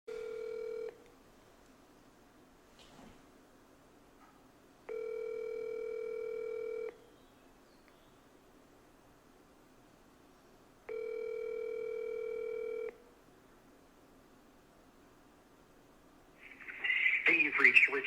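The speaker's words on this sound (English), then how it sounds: "I'm going to give him the double dial." Ringing tones on an outgoing cold call to a business contact: three steady ring bursts about two seconds long, separated by quiet gaps, with a brief burst of voicemail greeting speech starting at the very end.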